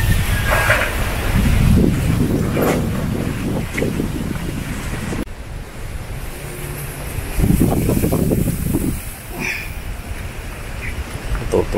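Strong storm wind gusts across a garden of trees and potted orchids, roaring in broad waves that rise and fall, buffeting the microphone with low rumbling surges, near and loud throughout.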